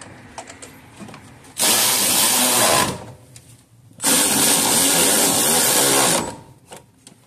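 A power tool drives radiator bolts on a 2012 Jeep Liberty 3.7, with two loud sustained whirring bursts, each lasting a second or two, separated by a short pause.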